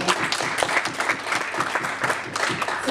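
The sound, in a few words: students applauding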